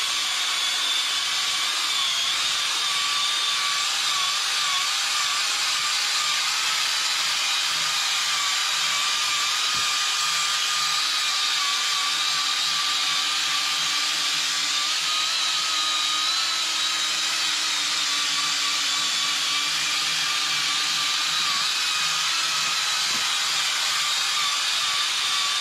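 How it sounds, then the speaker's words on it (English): A power buffer sanding a horse hoof wall before gluing whirs in a steady, loud, continuous high-pitched drone with slight pitch wavering, running alone for the whole stretch. "I'm going to take my buffy and I'm just going to make sure that all the dirt, dust and periopal is stripped off this top gluing layer"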